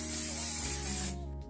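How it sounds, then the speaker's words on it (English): Setting spray is misted onto a face in one close, loud, continuous hiss lasting about a second before cutting off abruptly. "I had to spray my face and let me just do some"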